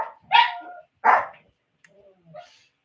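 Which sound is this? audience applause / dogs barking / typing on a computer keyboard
dogs barking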